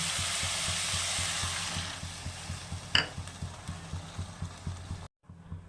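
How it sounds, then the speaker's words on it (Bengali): Water hits a hot pan of frying chitol fish curry with new potatoes, giving a loud hiss that settles into a softer sizzle under rhythmic knocks of stirring, then cuts off abruptly. "কষানো হয়ে গেছে এবার জল দিয়ে দিচ্ছি"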